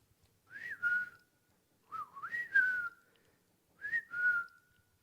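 Three separate whistled phrases, each a rising then level tone, with short pauses between them; clear and fairly close, no talking.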